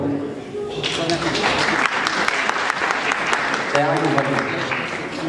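A crowd at an evening event applauds loudly and steadily, dense clapping filling the whole stretch after a brief lead-in, with a voice talking over it.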